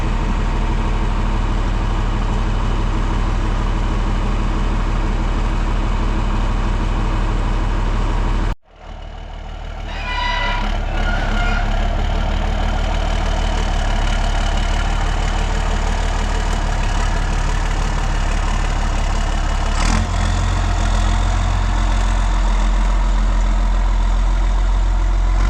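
A tractor engine idles with a steady low rumble, heard near and loud, briefly cut near the middle before the same idle resumes, with a faint higher tone joining later.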